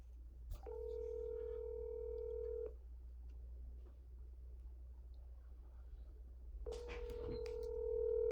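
Telephone dialing tones while calling a home seller: a steady two-tone beep holds for about two seconds, falls silent, then returns near the end over a low hum.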